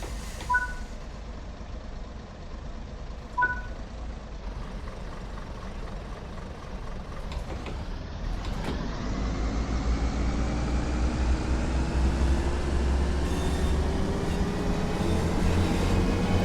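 Passenger train in Train Sim World 4 on the Blackpool branches, with a quiet idle and a couple of short beeps before the engine note climbs steadily as it starts moving and gathers speed.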